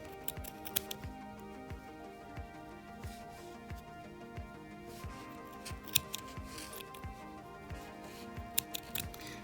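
Scissors snipping through yarn loops of a pompom for a cactus craft, a run of quiet, regular close-up cuts with faint rustling and no talk.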